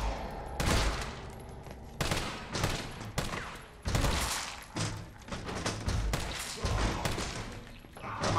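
Gunfire in the video game Resident Evil 3 remake sounds as a series of loud, sharp shots with heavy thuds. Bursts and single blasts repeat unevenly across the stretch, and the action is steady, with no talking.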